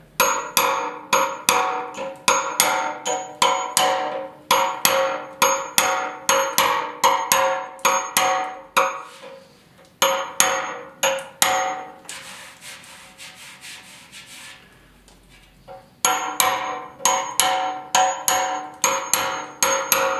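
A chisel taps dents down on the steel fuel tank of a 1974 Yamaha RS 100. Quick, sharp metallic taps come in steady bursts, with a softer rubbing stretch and a brief lull before the tapping resumes.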